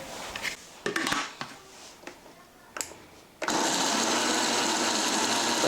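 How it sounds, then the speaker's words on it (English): A kitchen blender holding rice and water gives a few scattered clunks and knocks, then its motor kicks on and runs loud and steady until the end. "I had started to blend, but I forgot to add water"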